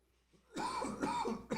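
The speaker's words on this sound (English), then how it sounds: "I apologize for all the coughing" A man coughs several times in quick succession after a brief quiet moment, close and fairly loud, with a throaty, rasping quality and no talk over it.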